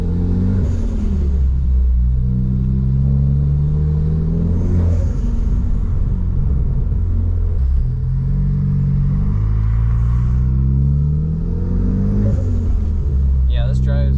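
A car drives on the road in normal conditions after a tune, its engine a steady low rumble with gentle rising revs repeating every few seconds, heard from inside the cabin with a voice talking over it.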